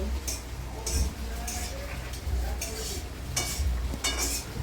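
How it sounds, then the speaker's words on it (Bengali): A pot of Bengali meat curry bubbles on the stove with a steady simmering hiss, broken by periodic clinks and scrapes of a stirring spoon against the pot; no one speaks. "দেখো মাংস ঝোলটা ফুটছে"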